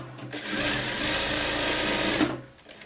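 A sewing machine stitches the side seam of a garment with an embedded pocket, running in one loud, steady whirring burst of about two seconds before stopping.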